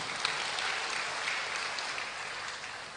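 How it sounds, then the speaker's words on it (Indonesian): Audience applause at a national Christmas celebration, a dense, even wash of many hands clapping that holds steady for a few seconds at moderate volume. "Kita berikan tepuk tangan yang paling meriah."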